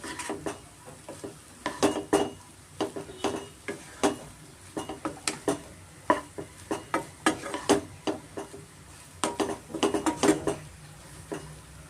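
Spoon stirring mushroom rice in a metal pan after lemon juice is added, giving many quick scraping clinks and light knocks in an uneven rhythm, close and fairly loud, with a faint sizzle underneath and no talk.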